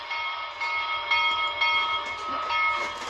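A BLI Paragon4 NYC Commodore Vanderbilt Hudson model locomotive sounds its bell, a rapid, evenly repeating metallic ringing, clear and up close with nothing else over it.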